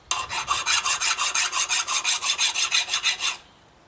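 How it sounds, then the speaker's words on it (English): A hand file scraping an axle keyway flat on a Husqvarna YTH2248T lawn tractor transaxle: about seventeen rhythmic, even rasping strokes in quick succession, close and loud, then stopping abruptly. "just take my file and file this keyway down"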